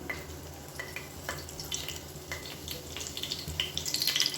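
Whole spices and curry leaves crackling in hot oil, a soft steady sizzle with scattered sharp pops that grows slightly louder toward the end.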